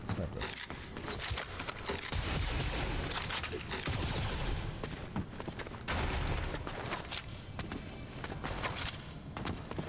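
Sniper rifle fire in a video game comes as loud, sharp shots among dense bursts of game gunfire and clatter, continuous and close.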